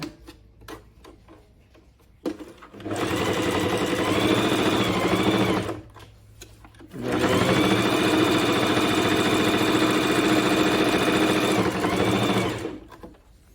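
A Bernette B05 sewing machine runs a zigzag stitch through thick leather in two sustained bursts of rapid, even mechanical chatter, close and loud, separated by brief quiet pauses.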